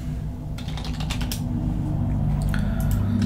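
Keyboard shortcuts typed on a computer keyboard while configuring a Linux desktop, heard as a steady run of close, crisp key clicks over a constant low hum, no talking.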